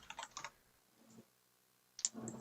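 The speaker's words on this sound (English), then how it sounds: "Do you see how I'm typing that right there?" Close computer keyboard typing comes in short clusters of quick clicks, with a quiet pause in the middle before another brisk burst of keystrokes.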